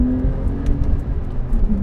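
Porsche 911 Carrera T with its rear-mounted flat-six engine pulling hard in second gear at speed, a loud, steady low engine drone with road roar continuing throughout.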